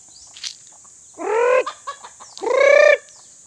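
Roosters close by give two drawn-out harmonic clucking calls over a faint steady high whine, with no talk.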